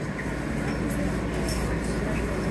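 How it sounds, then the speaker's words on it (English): A Manhattan-bound R train on the legacy BMT subway rumbles steadily with a loud, continuous wheel and motor roar inside the car, with faint squeals and clanks throughout. "This is a Manhattan-bound R train."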